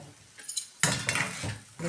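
A spoon stirs a sautéed mix of sago and potato with peanuts in a pan over medium heat, giving soft scraping and light clinks against the metal in short quiet strokes with a faint sizzle.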